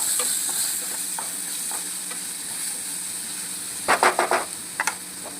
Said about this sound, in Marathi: ह्या पण तेलावरती मस्त अशा परतवून घ्यायच्या आपल्याला